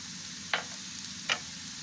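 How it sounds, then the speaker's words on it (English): Raisins caramelize with sugar in a pan, giving a faint steady sizzle broken by two brief scrapes of a stirring spoon, close and quiet. "Now we'll put our raisin and caramelize them with our sugar."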